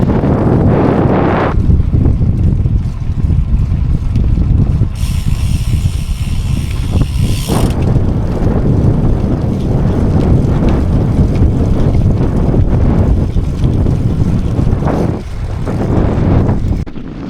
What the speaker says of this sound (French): là c'est qu'un vent de face terrible